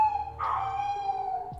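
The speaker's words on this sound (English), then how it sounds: "And yeah, that's my dog. He likes to scream." A pet dog named Mochi lets out a loud, sustained howl with a wavering, whining pitch that swells and fades over about a second and a half, close by and alone, with no voices over it.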